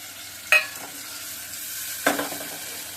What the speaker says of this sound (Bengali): প্রথমে আমি পেঁয়াজটা দিয়ে দিব, মাখানো পেঁয়াজটা তেলে ছেড়ে দিব